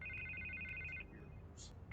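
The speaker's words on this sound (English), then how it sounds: "I can't get the phone to stop ringing." A telephone rings in the Batman Telltale Series video game, an electronic trill in repeated bursts over a low game soundscape, then breaking off briefly before resuming.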